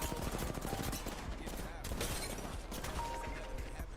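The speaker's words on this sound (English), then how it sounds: "Great shots with the Mastiff." Mastiff shotgun blasts in Apex Legends, a dense barrage of heavy gunfire and crashing impacts filling the whole stretch with a steady loud mix, game sounds layered throughout.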